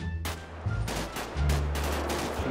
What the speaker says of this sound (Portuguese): tenta pegar o jeito certo de atirar com rifle